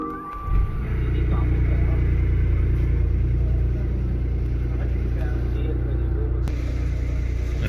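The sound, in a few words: BMW i8 Roadster being started after battery replacement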